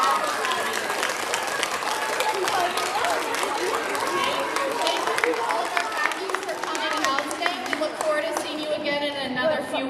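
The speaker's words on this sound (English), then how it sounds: "Can we give a big round of applause to our student leaders?" Elementary school assembly audience clapping for student leaders, a dense, continuous wash of applause mixed with children's chatter and excited shouting in a large room.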